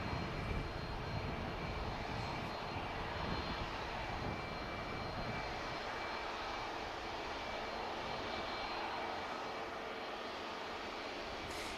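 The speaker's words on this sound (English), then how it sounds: "the one that's on the taxi is EasyJet flight to Amsterdam" An EasyJet jet airliner taxis at Manchester Airport, giving a continuous engine roar with a high whine that stays even and thins a little in its low rumble partway through, with no talking.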